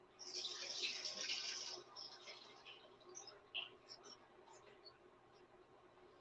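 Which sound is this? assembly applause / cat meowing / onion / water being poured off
water being poured off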